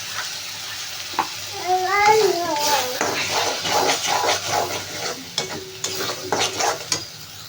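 Tomato and green chili paste frying with spices in a pan for a potato dish, a steady sizzle with stirring scrapes while a voice and other speech rise over it.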